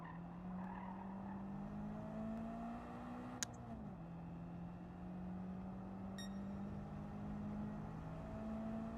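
A car in a racing video game drives with a steady droning engine tone that dips and shifts briefly as it corners, plus faint tire noise and a sharp click, continuous and moderately quiet.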